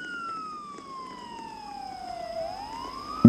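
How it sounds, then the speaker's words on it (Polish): A police car siren in the Roblox video game, with a steady wailing tone that sweeps slowly down and then rises again, at moderate loudness over a faint background, ending in a sudden loud hit. "Wóz policyjny cię zaraz przyjedzie."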